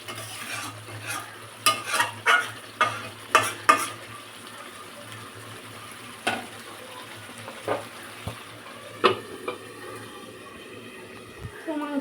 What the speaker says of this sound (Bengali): তো মাংসটা কষুক